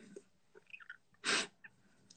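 A single sharp, loud human sneeze bursts out amid quiet indoor room sounds and soft breathing, standing alone without talk.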